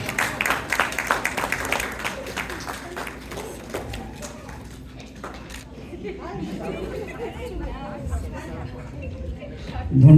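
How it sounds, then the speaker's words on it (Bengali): An audience at a cultural event claps loudly at first, then the clapping fades into crowd chatter and murmuring voices, with scattered taps and movement and a louder thump at the very end. "সকলের জন্য একটা জোরে হাততালি হয়ে যাবে।"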